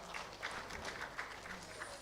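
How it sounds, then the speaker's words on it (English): An audience at a Nigerian engineering fellowship conferment ceremony applauds an honoree, a soft, steady patter of many hands heard at a distance for a couple of seconds. "A round of applause for her."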